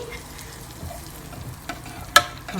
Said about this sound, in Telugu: పప్పు మంచి బాయిల్ కావాలన్నమాట.